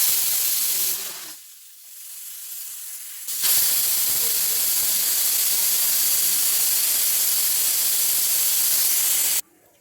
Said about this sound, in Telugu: మూడు విధులు వచ్చినాయండి